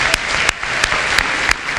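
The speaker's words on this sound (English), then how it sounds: "So give yourselves a round of applause for taking the time." Audience applause at a French immersion school Blue Ribbon recognition ceremony, a steady wash of clapping with a few sharper accents standing out at regular points.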